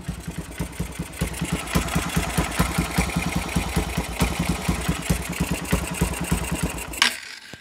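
Close-miked Honda CRF Mega Pro motorcycle with a single-cylinder engine idles in a steady, fast, even putter, then cuts out abruptly near the end.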